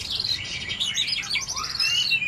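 A songbird kept for singing contests chirps and trills in bright, rapid phrases, close and clear, with no talking.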